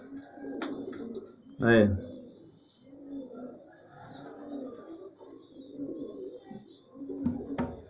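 Young pigeons in a colourful home breeding loft give soft, intermittent coos and calls, with someone talking nearby over them throughout.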